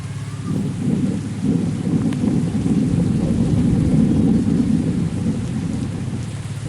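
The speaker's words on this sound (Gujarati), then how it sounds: "વરસાદ ચાલુ થઈ ગયો છે ગાઈસ હમણાં તો" Steady heavy rain pours down continuously, a dense close hiss and patter with a low rumble underneath, with no voices.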